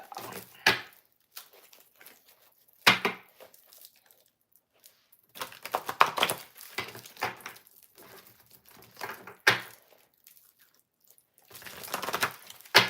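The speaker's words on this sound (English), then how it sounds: "I was shuffling one deck" A deck of tarot cards being shuffled in short separate bursts of crisp riffling and slapping, with quiet pauses between them and no talk.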